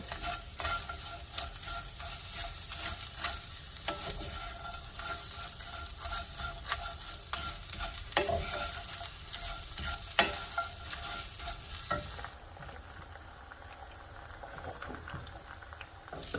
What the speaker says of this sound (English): I'm going to add some onion. This is fresh onion into the pan and let that saute for a little bit.